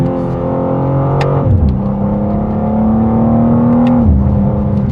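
A 2025 BMW M2 engine drones steadily, then drops in pitch twice as the non-dual-clutch gearbox downshifts, each shift followed by a rising rev.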